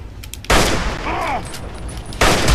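Bolt-action rifle fire in the Fallout 3 video game: loud, close gunshot blasts in separate bursts, with reverberant noise and brief ringing tones between shots.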